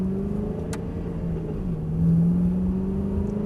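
A car pulls away from a racing circuit's pit exit and accelerates in second gear, its engine drone steady and close, rising slightly in pitch with a brief dip near the middle.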